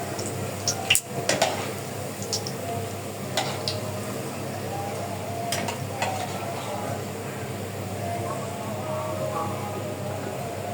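Beef tikia patties fry in a pan with a soft, steady sizzle. Occasional sharp clinks and scrapes of a utensil against the pan cut in, and a voice talks quietly over the cooking.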